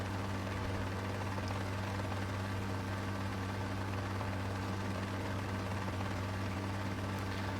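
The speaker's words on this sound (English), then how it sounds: "The Loach is just so maneuverable as an aircraft." Loach helicopter in the video game Rising Storm 2: Vietnam, a steady, droning rotor and engine hum that holds at an even, close level throughout with no voices.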